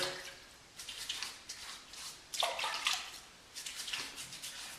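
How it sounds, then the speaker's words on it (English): Water from a filled bathroom sink splashes onto a beard in several short, soft bursts of sloshing and dripping, close and quiet. "I'm going to just apply some water to my beard."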